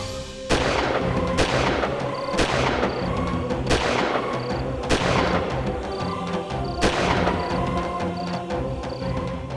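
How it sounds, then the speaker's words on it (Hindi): Loud gunshots ring out one after another at irregular intervals, each a sharp crack with a ringing tail, about six shots over a steady background, with no talking. "फायर! Cover fire!"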